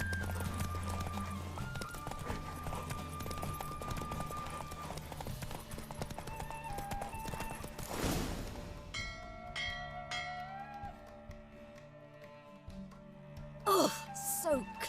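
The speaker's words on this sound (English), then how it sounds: "Don't spare the horse!" A horse gallops in a race in The Witcher 3, its quick hoofbeats running under layered game music and ambience, with a voice briefly heard and bell-like tones near the end.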